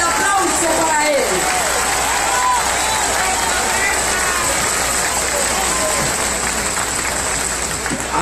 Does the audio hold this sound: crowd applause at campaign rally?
yes